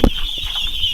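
One-week-old ducklings peep at a duck farm in Davao del Sur, a continuous high-pitched chorus of thin, close cheeping with a short thump at the start.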